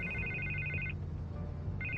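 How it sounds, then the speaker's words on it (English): A telephone rings in the Batman Telltale video game, sounding two electronic trilling bursts separated by a short pause over a low hum of background game ambience. "I can't get the phone to stop ringing."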